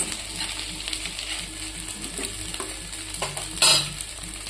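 A sabudana mixture is stirred in a pan over a medium flame: a continuous low sizzle under repeated scraping strokes, with one sharper, louder scrape near the end. No voices.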